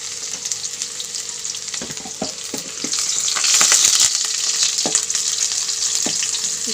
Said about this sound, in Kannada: ಸುಮ್ಮನೆ ಒಗ್ಗರಣೆ ಮಾಡ್ತಾ ಇರೋದು ಈಗ